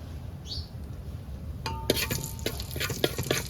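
Asafoetida dropped into a small amount of heated oil in a pan while cooking a crab curry, giving a sudden crackling sizzle that starts partway through, with light clinks from a spoon or utensil.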